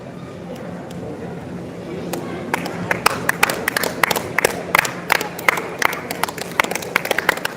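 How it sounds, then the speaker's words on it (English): Crowd noise at a badminton tournament closing ceremony and prize-giving builds into scattered, sharp hand claps that grow denser and louder. Murmuring voices and cheering run beneath the clapping. "Please audience cheer up."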